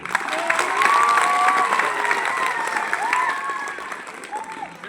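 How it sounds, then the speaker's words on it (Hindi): A school crowd applauds during a Republic Day speech at a higher secondary school, with sustained clapping and some cheering, loud and close, while whistle-like tones sound above it. "तालियां बजाइए।"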